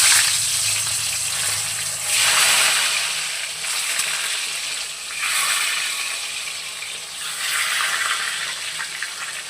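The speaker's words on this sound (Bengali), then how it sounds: "বেগুনগুলোকে ভেজে নেব।" Eggplant pieces frying in white oil in a wok, a steady loud hissing sizzle that swells and eases in waves, with no voices.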